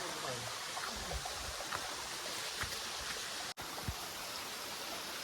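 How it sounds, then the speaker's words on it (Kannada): Water rushing in full flow at Muthyala Maduvu waterfall near Anekal: a steady, dense roar that runs unbroken from start to end, with only a brief dip near the middle. "ಈ ಸತಿ ಫುಲ್ ಹರಿತಾ ಇದೆ ನೀರು."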